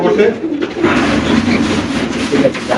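Loud, close pigeon cooing in repeated throaty bursts, several birds overlapping, mixed with some background voices.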